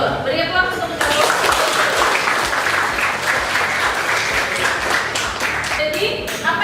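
A classroom of students bursts into loud, sustained applause for the groups, dense clapping running for several seconds before tapering at the end, with a voice heard briefly at the start.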